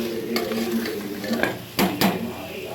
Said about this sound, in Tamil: இப்போது ஒரு அஞ்சு நிமிஷம் நல்லா உப்பு போட்டு எலும்பை நல்லா வதக்கி விட்டுக்கணும்